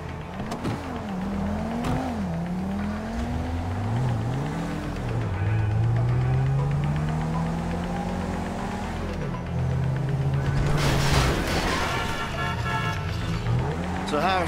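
Car engine in Grand Theft Auto 5 drives steadily with rising and falling revs throughout, loud and close, while voices talk over it and a brief burst of noise hits near the end.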